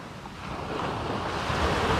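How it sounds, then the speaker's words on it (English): Ocean surf at New Smyrna beach, Florida, with waves washing in on a flat, slightly swelly sea near high tide, a continuous broad rushing roar that swells a little louder. "The surf has flattened out. It's still a little swelly, but it's really, really, really nice."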